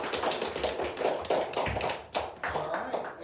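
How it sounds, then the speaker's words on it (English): Audience applause at a fifth grade spelling bee, a dense run of hand claps from a nearby crowd lasting several seconds with uneven, overlapping rhythm and no talking. "So one more round of applause."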